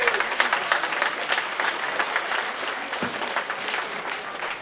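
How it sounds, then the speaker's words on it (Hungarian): Crowd at an outdoor pig-slaughter festival in Szarvas greets late-arriving guests with sustained, even applause, dense clapping holding steady throughout. "Nagy tapssal köszöntsük őket"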